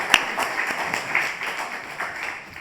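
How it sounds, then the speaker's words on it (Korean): A church congregation claps during a Sunday worship service, a short burst of scattered, moderately loud applause filling the room. "우리 하나님께 영광의 박수 돌리겠습니다"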